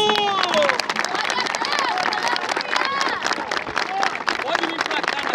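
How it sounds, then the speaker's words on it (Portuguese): A church congregation claps and cheers in praise, a steady dense burst of applause and crowd noise that continues throughout with voices mixed in. "Palmas para Jesus!"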